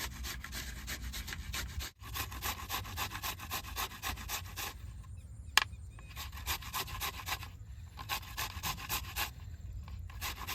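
Raw mango being grated by hand for a shredded pickle, a steady rhythmic rasping scrape repeating close up for the whole stretch, with one brief pause and a sharp click partway through, no voices.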